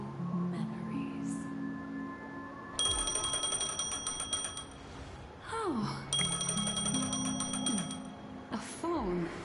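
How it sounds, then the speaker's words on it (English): A phone ringing in the video game Honkai Star Rail, bright repeated electronic ring bursts in two long trills separated by a pause, with descending chime-like tones and a brief spoken exclamation. "A phone."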